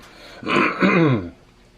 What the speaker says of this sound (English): I'm coughing up a storm off camera